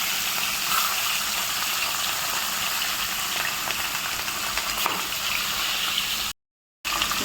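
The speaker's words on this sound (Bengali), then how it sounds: "প্যানে তেল নিয়ে নিয়েছি, এবার তেলটা গরম হোক, তো ততক্ষণ একটা একটা করে মাছ দিয়ে দিই।" Fish frying in hot oil in a pan, a steady, dense sizzle and crackle that runs loud and unbroken before cutting out briefly near the end.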